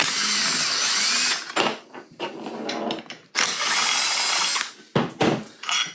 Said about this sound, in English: I just use an 8mm socket